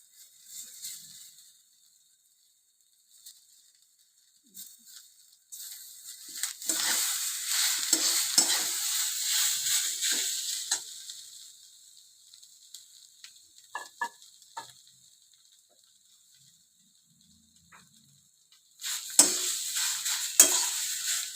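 Boiled potato crumbled by hand into a pan for aloo chop, giving intermittent bursts of soft, bright sizzling and stirring scrapes, with long near-silent gaps between them and a louder burst at the end.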